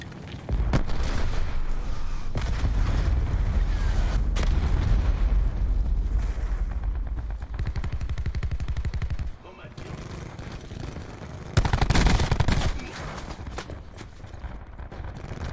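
Sustained rapid automatic fire from the Spitfire SMG in the video game Black Ops 4, a dense continuous rattle with a louder burst near the end.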